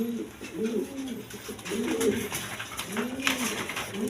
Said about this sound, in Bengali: এখানে এক পেয়ার কবুতর আছে রাসগোল্লা